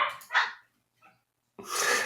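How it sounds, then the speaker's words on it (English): Several dogs bark in short, sharp bursts, a couple of quick barks, a pause, then another loud outburst, heard somewhat away from the listener. "these dogs are crazy"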